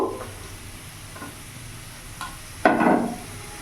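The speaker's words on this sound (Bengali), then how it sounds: "এবার এখানে আমি কেটে রাখা বাঁধাকপিগুলো দিয়ে দেবো" Chopped cabbage hitting a hot pan and being stir-fried: a quiet sizzle with light stirring scrapes, then a louder burst of frying as the cabbage goes in near the end.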